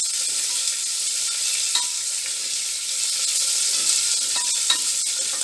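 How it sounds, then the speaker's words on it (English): Onion sizzles and crackles in hot, splattering oil for a quinoa, lentil and brown rice pulao, a steady close hiss with occasional stirring clicks. "I'm going to add the onion. Let it fry for 1 or 2 minutes."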